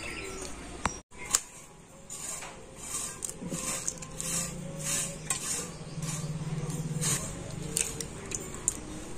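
Two eggs cracked into a bowl for Mughlai paratha batter: sharp taps and crunchy shell breaks followed by soft wet plops and kitchen clatter, fairly close and moderately quiet.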